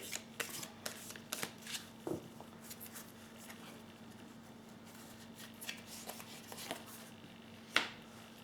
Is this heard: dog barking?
no